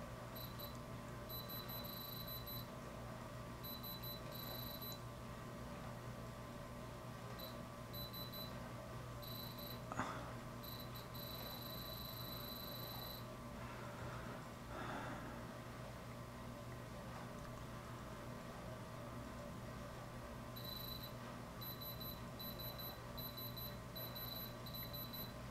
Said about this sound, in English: we got some beeps without chirping, so it's definitely something